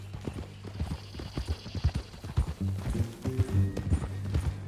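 Horse hooves clip-clop in a quick, uneven rhythm close by in the video game Red Dead Redemption, with a low steady hum and occasional voices underneath.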